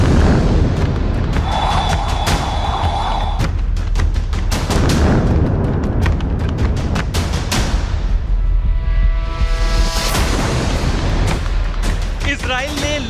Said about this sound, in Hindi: बम बरस रहे हैं, देखिए।